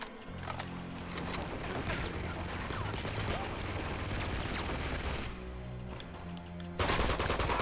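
A cannon and dense gunfire fill a combat scene in the video game Uncharted 2, with steady heavy shooting throughout and a louder burst near the end.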